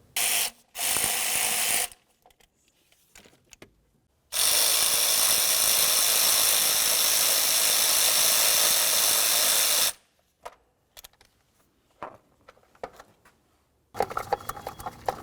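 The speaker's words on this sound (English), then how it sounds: "Get this back one unscrewed as well." A ratchet wrench loosens the intake manifold bolts on a 2002-2005 Ford Explorer, with bursts of rapid clicking and one long steady run of ratcheting, separated by quiet gaps and a few short clicks, close and loud.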